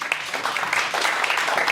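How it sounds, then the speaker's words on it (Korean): Brief applause from the audience at a party leadership candidates' debate, a short patter of scattered hand claps with some murmuring in the room. "확실히 그 대표 박수 한번 치셔도 됩니다"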